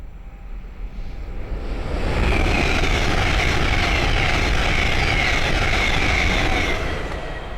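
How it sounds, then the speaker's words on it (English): A Hull Trains Class 800 running from Sunderland to London King's Cross passes on the East Coast Main Line at Great Wymondley, its rumble swelling in and holding as a loud, steady roar before easing slightly. "the next train to pass by is a Hull Train 800 from Sunderland to London King's Cross"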